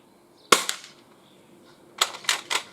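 An Umarex MP7 spring air pistol fires pellets at paper targets, giving a sharp close crack followed a second and a half later by a quick cluster of three more snappy shots, with quiet room tone between.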